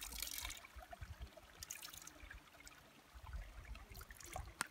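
Water from a pool test vial being rinsed out, a faint trickle with small splashes and dribbles.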